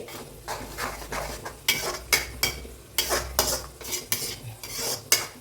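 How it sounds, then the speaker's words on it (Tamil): Ground tomato paste sautéing in a pan for a drumstick curry, stirred with a spoon in a rapid series of scraping, clinking strokes over a steady sizzle, close and fairly loud. "இதுவும் நல்லா நமக்கு வதங்கி வரணும் தக்காளி பேஸ்ட்டு"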